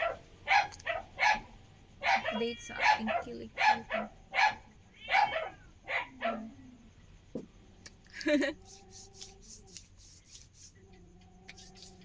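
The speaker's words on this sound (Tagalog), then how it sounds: "Yun ang mga aso." Several dogs bark in quick, repeated bursts nearby, followed by a yelp and some whining, with a person speaking briefly among them.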